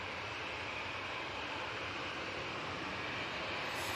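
An easyJet Airbus A320-200 arriving from Milan at Manchester Airport gives off a steady, fairly faint engine roar with broadband hiss, unbroken for a few seconds.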